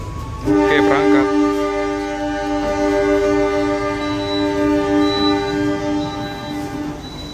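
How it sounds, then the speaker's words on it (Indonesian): A Majapahit economy-class passenger train pulling away on a night departure, with a loud sustained horn-like tonal blast starting early and holding for several seconds over rumbling motion noise, while people talk faintly in the background. "Oke, ini kereta api Majapahit sudah berangkat."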